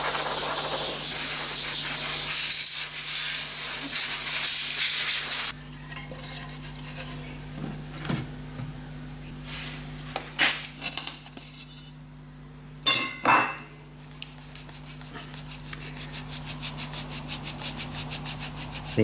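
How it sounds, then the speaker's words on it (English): Moist green foundry sand is worked through a sieve, giving gritty rubbing and scraping with a few louder scrapes and clinks partway through, then a rising hissy rush near the end. "You can see that's not coming through the sieve quite as freely as the K-Bond"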